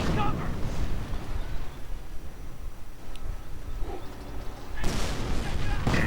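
Mortar rounds and explosions in a World War II strategy game, with low rumbling booms at the start and a louder blast near the end, under a commentator's talk.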